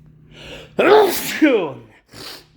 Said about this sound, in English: gotta sneeze.